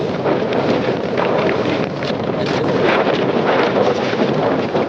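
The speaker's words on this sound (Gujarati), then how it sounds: "આખું વાતાવરણ બદલાઈ ગયું. વાદળાઓ વળે છે, ફૂલ પવન." Strong, steady wind roaring and buffeting the microphone on Goraksh peak at Girnar as clouds roll in, a continuous loud rumble with no pauses.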